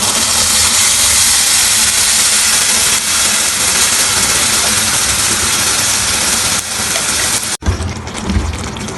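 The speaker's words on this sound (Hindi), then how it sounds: "अब मैंने जो टमाटर का पेस्ट बनाया था वो अब इसमें डालूंगी" Tomato paste hitting a hot pan while cooking ridge gourd (tori) sabzi gives a loud, steady broadband sizzle that fills the whole clip, then briefly dips and flares again near the end.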